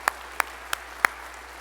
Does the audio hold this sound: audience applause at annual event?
yes